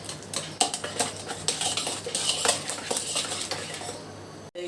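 A utensil stirs oil into melted sugar in a bowl for orange cake batter, making quick, irregular scraping and clinking. The sounds are close and fairly loud, and they cut off abruptly at the end.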